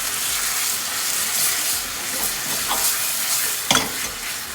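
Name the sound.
stirring tomatoes cooking in a pan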